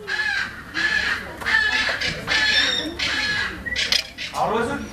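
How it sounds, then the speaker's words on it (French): A striated caracara (Forster's caracara) at an eagle and raptor park gives repeated harsh, cawing calls in loud bursts with short gaps, fairly close. "Alors l'oiseau qui crie tout le temps, celui qui est marron derrière vous"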